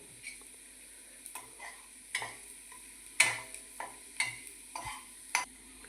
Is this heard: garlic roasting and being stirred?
yes